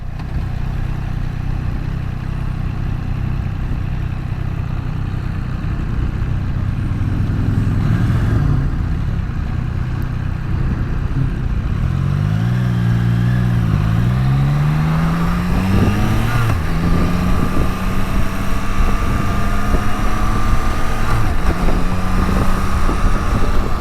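A 2022 Triumph Trident 660 rides along with steady engine drone under wind buffeting, its pitch rising and dropping through several smooth downshifts and gear changes.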